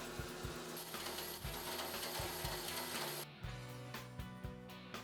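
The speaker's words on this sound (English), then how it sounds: "Begin to cut out the shape of the blade using a metal cutting bandsaw." A metal-cutting bandsaw runs through CPM 154 stainless steel knife-blade stock with a steady, rhythmic whir and regular pulsing thumps, then the pitch and texture shift as the cut changes near the end.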